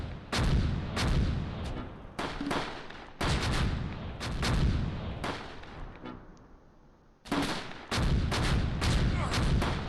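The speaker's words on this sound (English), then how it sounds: "One of their light mortars hit us." Light mortar explosions and gunfire in the Close Combat battlefield game, heavy booming bursts repeating in clustered volleys with a short lull before the firing resumes, loud and close.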